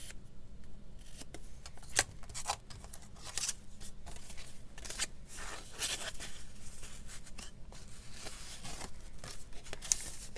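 Scissors snip through craft material, cutting it to length for a vintage-style journal pocket; close, repeated cuts with rustling paper handling between them, no speech.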